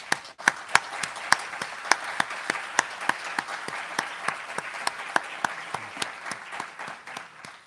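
Applause fills the hall at a national philosophy congress: sharp, rhythmic clapping, near and steady, with distinct loud claps standing out over a general crowd patter throughout.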